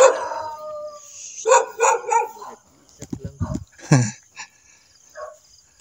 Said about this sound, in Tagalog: Dito may aso pa, ingay.